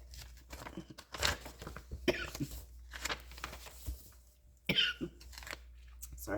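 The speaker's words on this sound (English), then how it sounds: "Sorry, I'm going to start coughing." A person with a cold and asthma coughs several times at close range, short harsh bursts spread irregularly among quieter rustling and crinkling of paper.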